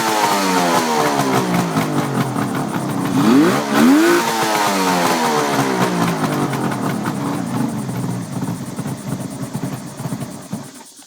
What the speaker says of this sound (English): Let's see if we can get it going again. There you go. Gotta love a two-stroke.